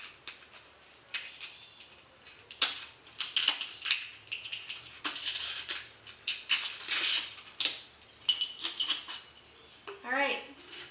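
Someone pries loose the metal base of a glass lightbulb, making close, irregular bursts of gritty scraping, crunching and clicking with short pauses between efforts.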